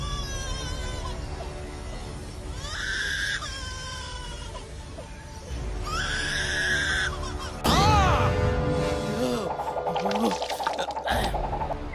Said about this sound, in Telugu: ఈ బర్డ్ ఎలాంటి సౌండ్ అయినా మిమిక్రీ చేయగలదు.